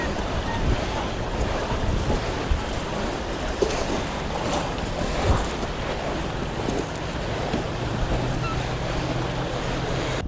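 Ocean surf rolls in at the mouth of the Kenai River, a soft continuous wash with wind buffeting the microphone and occasional louder gusts and splashes, all fairly faint and steady.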